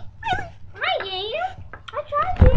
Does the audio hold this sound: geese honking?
no